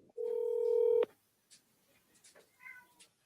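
A telephone dials out to a house seller: a single long, loud keypad tone fills the first second, then a click and faint ringing tones follow in near silence.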